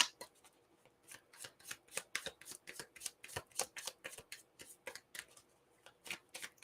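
Purple tarot deck being shuffled by hand, a steady run of crisp riffling card bursts close to the microphone, alone with no talking.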